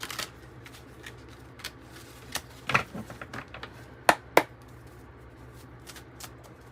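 Tarot cards are shuffled in a quiet room, heard as a few sparse, sharp riffles and slaps with one double snap near the end, standing alone against a low hum.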